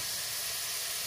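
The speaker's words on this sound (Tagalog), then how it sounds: "Ito natin siya maluto ng konti." Ginger frying in a hot pan gives a steady, close sizzling hiss that holds evenly for about a second.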